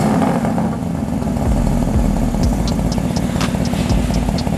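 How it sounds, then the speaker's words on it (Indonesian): A Mercedes-AMG GT S biturbo V8 engine idles steadily with a deep, throbbing rumble, close by and constant, with a few light ticking sounds over it. "Ini mesinnya V8 biturbo."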